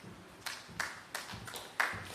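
Scattered applause from a conference audience at a national health research event, several sharp clap bursts spaced irregularly, fairly faint and thin, with no talk over them.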